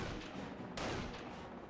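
Gunfire during a Company of Heroes battle: a dense, distant roar of shots and explosions, with one sharper burst standing out partway through, low and steady with no voices.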